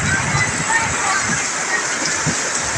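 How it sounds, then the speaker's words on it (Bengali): Heavy rain falls in Cox's Bazar, a dense, steady roar of downpour heard from indoors by a window, with a muffled voice now and then underneath. "বৃষ্টি হচ্ছে কক্সবাজারে।"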